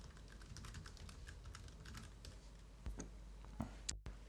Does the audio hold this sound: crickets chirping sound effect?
no